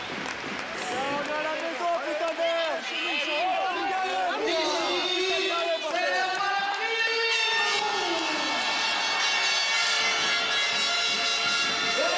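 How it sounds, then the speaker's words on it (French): A gym crowd at an Ajaccio versus Tours match applauds and cheers coach Jean-François Exiga in a steady, festive roar, while a commentator talks over it throughout. "Jeff, il est applaudi."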